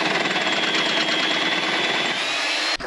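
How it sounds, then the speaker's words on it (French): An old Bosch pillar drill, about 30 years old, bores through metal in a steady, loud, continuous whine that runs with no break and cuts off sharply near the end. "on perce avec la vieille petite perceuse à colonne"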